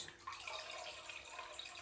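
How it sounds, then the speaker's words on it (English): Cooler water poured into a pot of beef stew, a continuous splashing stream of moderate, even loudness with no talk. "I am putting some cooler water in as well, so it's not too hot."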